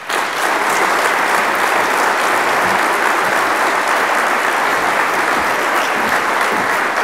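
An audience at a 2019 communion breakfast applauds warmly as Joe DeCamara is welcomed, with steady, full clapping from a large crowd throughout.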